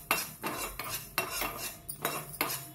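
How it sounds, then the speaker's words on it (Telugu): Fenugreek seeds being dry-roasted in a pan for a Telangana tamarind chili pickle, with a spoon scraping and clinking against the metal in repeated strokes, close and fairly quiet, no talking. "మెంతులు అయితే వేయించుతున్నా"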